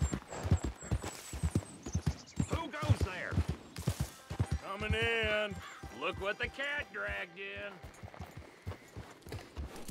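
Rhythmic clip-clop of horse hooves plodding along in Red Dead Redemption 2, mixed with frequent talking over the top and a brief whinny-like tone partway through.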